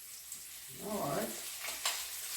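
Chicken cacciatore pieces browning in fat in a crowded pan, cooked in batches, giving a soft steady sizzle and frying crackle that swells midway, with a brief sharper spatter near the end.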